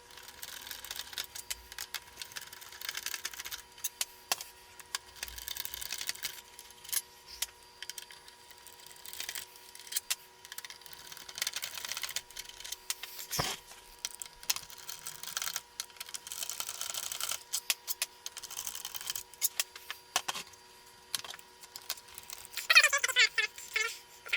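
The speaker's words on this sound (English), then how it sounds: "Need to remove all of these little screws." Small screws being removed from a Honda Accord instrument cluster: faint, dense clicking and light metallic rattling of a screwdriver and tiny parts, continuous and close, with no talking.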